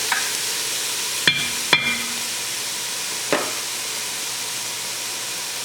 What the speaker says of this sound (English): So we cook the onion